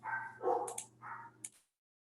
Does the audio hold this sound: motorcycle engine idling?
no